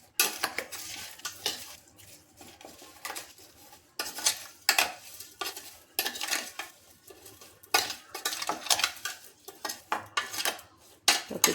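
A spoon stirs water into sugar in a steel vessel to make mango juice. Sharp, repeated metallic scrapes and clinks come close by in uneven bursts, with short pauses between them and no talking.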